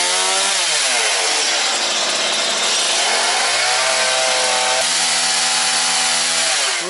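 A gasoline chainsaw cuts through wood beside a dugout shelter during firewood gathering, its loud engine whining and dipping in pitch as the blade bites and eases, running continuously and close up.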